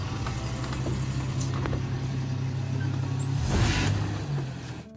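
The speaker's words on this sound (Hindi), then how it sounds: "भाई साहब गाड़ी बाहर निकाल रहे हैं" A car being driven out of a house idles and moves with a steady low engine rumble, swelling briefly louder near the end before fading, with no talk over it.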